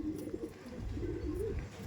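Madrasi pigeons coo softly and continuously at close range, their low throaty calls rolling over a steady background hum with no talk.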